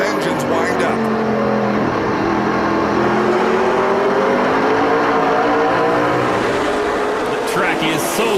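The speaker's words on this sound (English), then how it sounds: "listen to these engines wind up." NASCAR Canadian Tire Series stock cars racing at Antigonish, engines revving and winding up continuously and loudly as cars pass, with a race commentator talking over the roar throughout.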